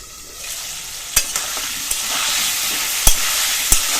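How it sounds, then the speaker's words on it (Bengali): Potatoes sizzle in oil in a pan with salt and turmeric, the lid lifted and replaced, for a Bengali desi chicken red curry; a steady loud hiss runs throughout, broken by several sharp clanks of stirring or the lid. "চাপা দিয়ে দিয়ে আলুটা লাল করে ভেজে নিব।"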